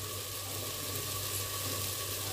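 A pot of fried chicken sizzles softly as washed home rice goes in for chicken khichdi, a faint, even hiss with no talking.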